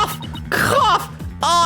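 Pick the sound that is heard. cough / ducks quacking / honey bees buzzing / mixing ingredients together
cough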